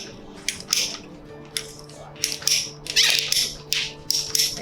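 Greenhouse irrigation line snipped with a hand cutter, a series of short crisp crunching cuts and clicks in uneven bursts, close and fairly loud, with no talking.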